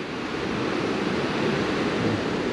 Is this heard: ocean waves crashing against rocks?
yes